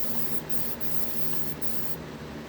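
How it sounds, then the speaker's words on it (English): Steady hissing from an aerosol can of wax and grease remover sprayed onto a tumbler cup, continuous and close, with a few brief breaks in the high hiss before it stops near the end. "I'm going to spray the cup down"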